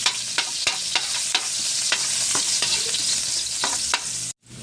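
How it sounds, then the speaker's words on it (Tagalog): Garlic sautés in oil in a pan as the start of a ground-meat giniling, giving a steady close sizzle with sharp spatula scrapes and stirring taps at irregular intervals and no talking. "gisa na natin bawang mga lods"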